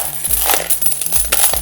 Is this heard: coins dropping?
yes